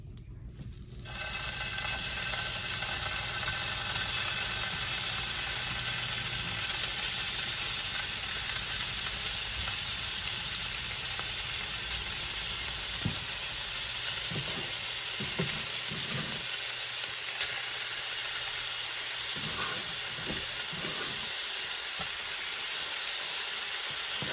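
Chicken pieces for an Old Bay chicken, bacon and broccoli Alfredo sizzle in a pan, a loud, steady frying hiss that starts almost at once and runs throughout, with a few soft knocks later on.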